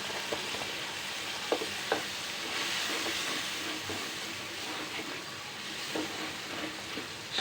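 Meat and spices frying in a pan for a home-cooked Bengali dish, a soft, continuous hissing sizzle with occasional light stirring knocks, fairly quiet and without voices.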